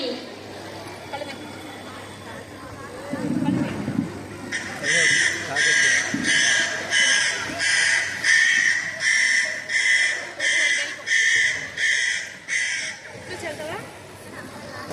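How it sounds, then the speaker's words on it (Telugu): A crow caws repeatedly in a steady series of about a dozen loud, harsh calls, close by, with some low background noise. "అదుగు కాకి"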